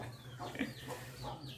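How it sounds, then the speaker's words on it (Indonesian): A chicken clucks a few short, quick notes nearby over a low steady hum, with faint background noise and no clear talking. "Ayam dia."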